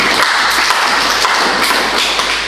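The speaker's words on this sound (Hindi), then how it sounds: "ताली बजा दो इसके लिए।" Dense applause from a group of young people at a talk session, a steady wash of many hands clapping together throughout, fairly loud and close with no break.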